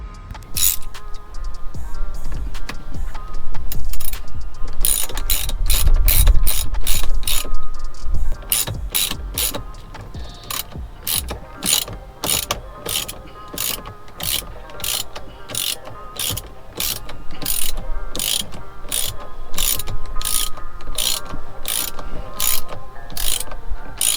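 A hand ratchet clicks rapidly and rhythmically as it tightens a Loctite-secured steering wheel bolt, with bursts of fast pawl clicks separated by short pauses and some handling noise.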